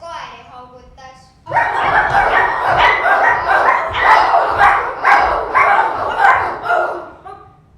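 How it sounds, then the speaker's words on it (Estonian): Dogs bark outside in a rapid, loud run of repeated barks that starts abruptly and continues to the end, mixed with crowing-like and voice-like sounds. "kord õues koeri haugutas."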